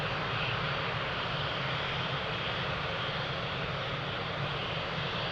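A fixed-wing airliner powers up for takeoff on runway 02 at Lisbon Airport, giving a continuous, steady engine roar heard from a distance, broad and even throughout with no speech.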